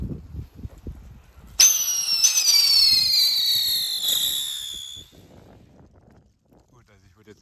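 Weco Sputnik and Funke Tornado Wirbel ground spinner fireworks set off outdoors: a sudden ignition followed by a loud, shrill whistling squeal lasting about three seconds, then fading to quiet background noise.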